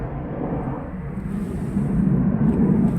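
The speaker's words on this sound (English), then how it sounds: "Okay, airplane. I'm pretty close to the air base." A low, rumbling roar of a jet passing overhead near an air base builds steadily in loudness over a few seconds, heavy and close.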